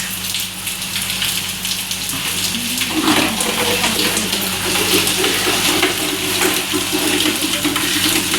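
Rainwater leaking indoors pours steadily into a container, a continuous splashing rush that grows slightly fuller partway through, with no talking.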